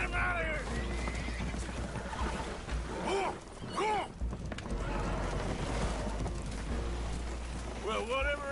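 Spooked horses neighing aboard a leaking boat in Red Dead Redemption 2, several whinnies rising and falling over a constant rumble of water and wind, fairly faint within a busy game mix.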